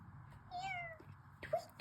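A cat meows twice in a quiet garden setting, a drawn-out rising and falling call followed by a short sharp meow, fairly close and clear with no talking.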